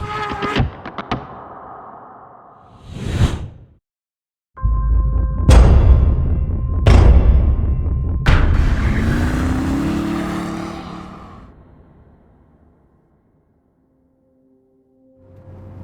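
A Ferrari 812 Superfast on a narrow road, its engine blipping and revving in several sharp bursts, then a longer pull fading away, ending in near silence with a faint tone.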